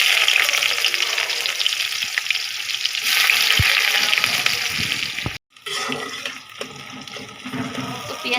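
Onions hit hot oil in a wok (kadai) for a Bengali chicken and potato curry, giving a loud, continuous sizzle with a few stirring clatters. The sizzle drops out briefly before resuming.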